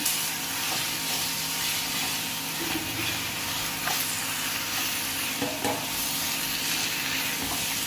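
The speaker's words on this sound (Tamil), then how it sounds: "கடுகு நல்லா பொரிஞ்சு வருது." Mustard seeds spluttering and popping in hot oil during tempering for mango pachadi, a steady close sizzle with scattered sharp crackles and faint stirring throughout, no voices.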